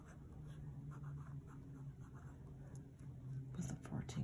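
Platinum 3776 fountain pen with a 14 karat gold music nib writing light block letters, a soft continuous scratching of nib on paper, faint and close, over a low hum with a slightly louder stroke near the end.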